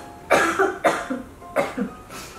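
Three short, sharp coughs follow one another, each with a brief throaty tail, after eating a very sweet almond brittle candy; they are close and there is no talk between them.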